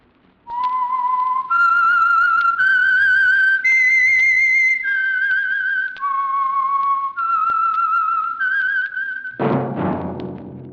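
A clear whistled melody of sustained, sliding notes, loud and close, carrying a tune alone before a brief burst of other sound at the end; the opening signal of a 1946 radio drama.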